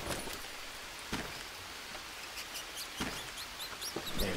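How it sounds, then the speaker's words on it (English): Rain falling in the jungle survival game Green Hell, a quiet continuous hiss with scattered sharp ticks and taps of drops, faint and alone without talk. "Oh, it's raining."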